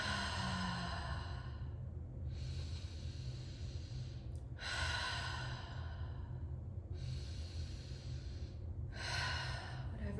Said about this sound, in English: Maybe a few deep rounds of deep inhales and exhales.